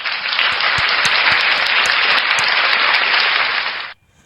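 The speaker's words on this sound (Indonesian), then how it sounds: "Tepuk tangan buat Kumaila." An audience claps for Kumaila in a loud, dense burst of applause that holds steady for about four seconds, then stops abruptly into near silence.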